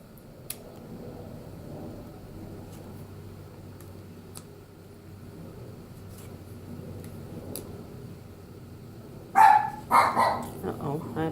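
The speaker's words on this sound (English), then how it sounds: "Uh-oh, I apologize for my dog barking." A pet dog barks a few times near the end, loud and close indoors, after a stretch of quiet room tone with faint ticking.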